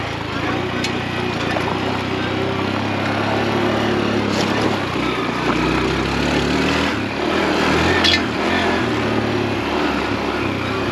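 A 2022 Honda Trail CT125 small-displacement motorcycle putters up a steep hill, its engine a steady, moderately loud drone heard alongside wind and a rider talking.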